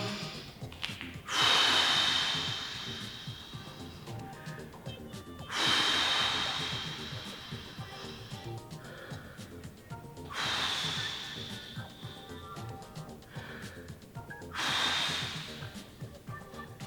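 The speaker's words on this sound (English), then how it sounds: "inhale, exhale" Deep breathing during a floor stretch in a home workout: four long, loud inhale-exhale breaths spaced a few seconds apart, close and unaccompanied by talk.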